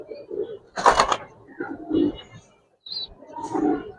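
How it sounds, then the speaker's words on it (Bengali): Giribaz pigeons in a loft in Old Dhaka give soft, low cooing calls in short bursts, close by, with some rustling and faint background voices between the coos. "উড়াল কবুতর নেন।"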